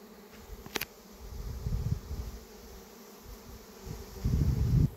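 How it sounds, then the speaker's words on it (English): A swarm of honeybees buzzes outdoors near a golden meadow, a faint, steady low drone that swells louder toward the end, with a brief sharp click early on. "Oh, the bees are moving over that way"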